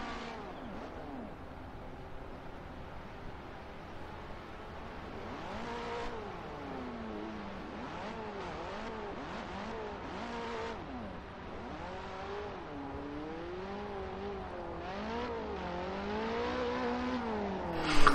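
A car drifts in the Assetto Corsa racing game, its engine revving up and down in steady wavering sweeps with a continuous whirring drone, loud and close with no talking.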